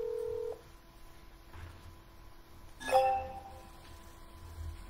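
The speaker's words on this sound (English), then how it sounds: "We're gonna call him right back." A telephone gives a short steady tone followed by a brief beep or chime on a cold call line, quiet and separated by low hum and silence.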